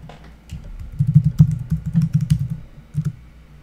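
Fast bursts of typing on a computer keyboard clatter nearby, an irregular run of clicks and key thuds during a tense moment in a Metal Gear Solid Peace Walker session.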